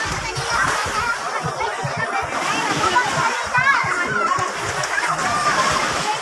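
Water splashes as people swim at night at a resort in Misamis Occidental, with children's voices and chatter throughout over the sloshing.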